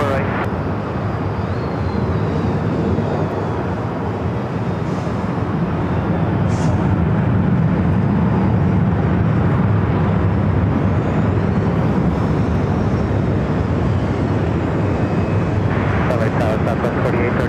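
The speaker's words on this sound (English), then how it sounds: "The A380 Super now making that right-hand turn, heading to Tom Bradley." An Airbus A380 taxis through a right-hand turn at LAX, its steady broadband engine roar loud and continuous throughout, with radio chatter in the background.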